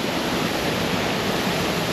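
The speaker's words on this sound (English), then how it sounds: "We got the waterfall." A small hidden waterfall on a Hawaiian stream pours in a steady, dense rushing roar, close and continuous, with no voices.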